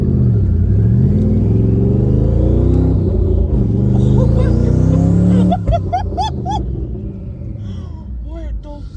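A 1,000-horsepower twin-turbo Mustang engine rumbles and revs up loudly, pitch climbing steadily before dropping into a run of quick crackling pops, heard close with people talking over it.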